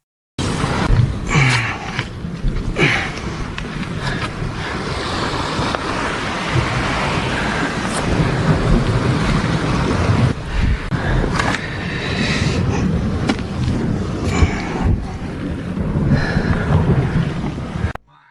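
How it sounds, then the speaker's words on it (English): Heavy stormy sea waves pound the base of a rock cliff, a continuous loud roar of surf with gusting wind buffeting the microphone throughout. "relentless waves violently assault the base of the precipice"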